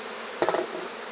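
Honeybees swarm densely in a massive opened hive, giving a close, steady buzz with a brief sharper burst of wings and rustling.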